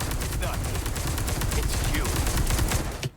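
Resident Evil 4 HD gameplay bursts with dense, loud gunfire and explosive fusillade sounds, rapid overlapping shots running continuously for about three seconds, with a voice partly underneath.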